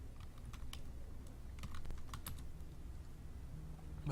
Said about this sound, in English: I'm just typing into Twitter, guys.